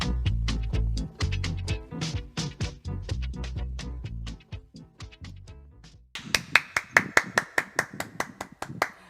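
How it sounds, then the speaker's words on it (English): A small group claps in uneven bursts, first in a dense patter and then in sharper, sparser claps near the microphone, with no voices over it. "Round of applause to you, Anthony Brightly"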